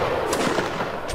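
Musket gunfire crackles through a Mount and Blade line battle, a dense, continuous volley of distant and mid-range shots with a few sharper reports standing out above the rolling din.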